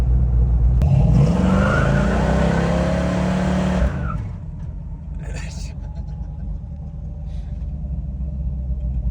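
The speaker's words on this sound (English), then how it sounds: "We'll just go out here and do a big burnout in the driveway and see what he thinks about it." A 1970 Dodge Challenger R/T convertible does a burnout in a driveway, its engine roaring loud and close and climbing in pitch for about four seconds before dropping back to a low idle rumble.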